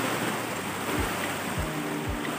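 Sea waves at the seaside on a cloudy, breezy day, a constant wash of surf with wind buffeting the microphone, close and fairly loud, no voices.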